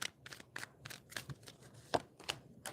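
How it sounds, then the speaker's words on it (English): Tarot cards being shuffled by hand, a series of soft, close riffling and flicking bursts in an uneven rhythm, fairly quiet with no one talking. "Let me try a different shuffle."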